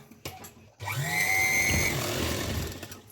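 A plain domestic sewing machine stitches a picot fall onto a sari. Its motor starts up after a short pause and runs as a steady close whirring hum for about two seconds, then winds down, with no talk.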